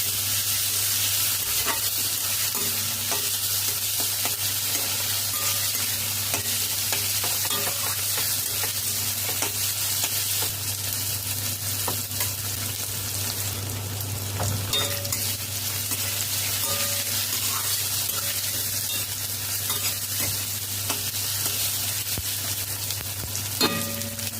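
Chopped tomatoes fry in a pan for a jackfruit curry, producing a constant loud sizzle with occasional scraping and light utensil taps, no talking.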